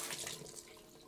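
Wet hands work a pump of skincare product together with water, giving a soft, close, continuous watery rubbing and squelching that holds steady through the moment with no speech.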